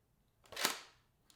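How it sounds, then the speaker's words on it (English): A Graflex Series B camera's focal plane shutter release fires once, a quick sharp mechanical snap with a short trailing whir, close and alone in a quiet room. "When I depress the shutter release, the mechanism that I described previously will activate, and you'll see the focal plane shutter move down"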